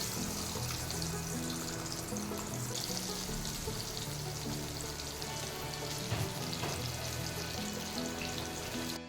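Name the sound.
boal fish marinated in salt and turmeric frying in oil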